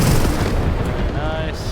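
A rocket launched from an F-100 Super Sabre jet in the PC combat flight game Metalstorm bursts with a deep, loud boom that rumbles and fades over engine roar, while a voice talks over it.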